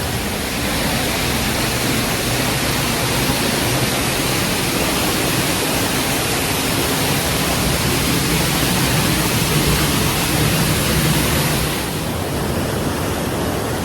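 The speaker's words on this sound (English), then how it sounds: "So this is Marmot Creek Falls in Kananaskis," Marmot Creek Falls, a waterfall in Kananaskis, Alberta, roars loudly and continuously from close by as a dense, even rush of falling water with no talk.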